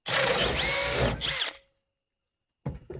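A power drill enlarges holes in wooden stakes for steam show area dividers, running loud and steady for about a second and a half, then silence before a second burst starts near the end.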